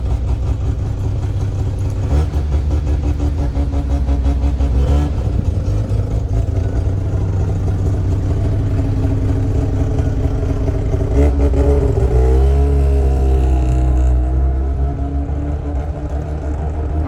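Cars pass on a city street, a loud steady engine rumble with rising and falling revs and swells as vehicles go by, lasting the whole stretch without talk.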